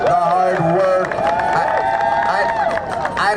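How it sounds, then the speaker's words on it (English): A crowd cheers and claps at an outdoor environmental rally in Foley Square, Manhattan, a sustained mix of whoops, shouts and applause that carries on throughout. "Let's give a big cheer for the folks who are doing the hard work"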